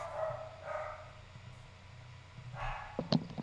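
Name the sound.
dogs barking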